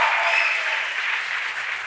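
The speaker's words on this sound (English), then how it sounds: "clap your hands if this is powerful" A church congregation claps hands together, a dense, even burst of applause filling the room and tapering slightly.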